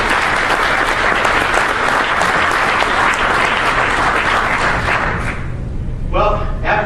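An audience at a Republican Northeast Conference political gathering in Rhode Island applauds loudly and steadily for several seconds, then the clapping fades and a voice begins speaking near the end.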